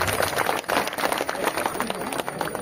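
Villagers at a Ganesh immersion gathering in Navshi, Dapoli clap together, a patter of scattered claps close by mixed with voices and crowd murmur throughout.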